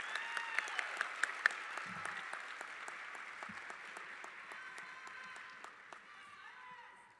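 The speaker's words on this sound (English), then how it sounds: "Let's give these kids another round of applause." A high school awards assembly audience claps for students, a steady, faint wash of applause from a large crowd that slowly fades, with a voice briefly heard beneath it.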